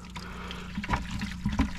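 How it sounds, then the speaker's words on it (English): Water flows from a pipe fed by a garden pond, a soft trickling and splashing with a few louder gurgles over a low steady hum, heard up close. "So that's pretty good flow."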